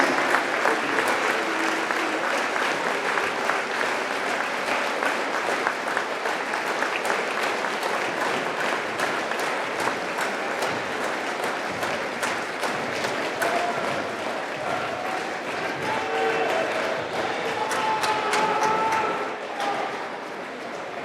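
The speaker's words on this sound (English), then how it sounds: "let's give one more big round of applause for the best scorers in the long history and tradition of Jasper Wildcats" A high school basketball crowd in a Jasper Wildcats gym applauds the team's best scorers, sustained dense clapping from a large audience for about twenty seconds before it fades.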